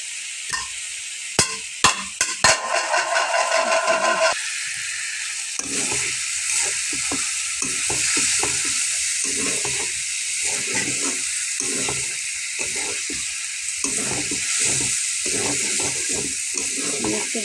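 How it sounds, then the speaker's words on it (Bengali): Beef tripe frying in a pan with steady sizzling and close stirring and scraping, opening with a few sharp knocks before a continuous hissing fry settles in. "একটু ভাজা ভাজা করে তারপরে কষানো পানি দিয়ে দেব।"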